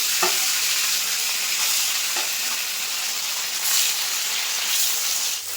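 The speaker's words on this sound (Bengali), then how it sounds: "মাছগুলো কিন্তু আমি হালকা লাল লাল করে ভেজে নিয়েছি এখন মাছগুলো তুলে নেব" Pieces of silver carp fish fry in hot oil with a steady, loud, dense sizzle and hiss, broken by occasional stirring clinks, with no voices.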